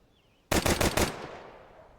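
Gunfire in Counter-Strike 2 on the Mirage map: a loud, close burst of four or five rapid shots that starts abruptly, then a decaying echo tail, with no talk.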